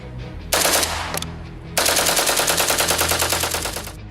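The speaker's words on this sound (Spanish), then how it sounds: "aprovechando el retroceso propio de cada disparo para darle mayor repetición, como si se tratara de un arma automática" A bump-stock rifle fires in rapid automatic-like bursts, a short loud volley, a brief pause, then a longer sustained string of fast, evenly spaced shots at close range.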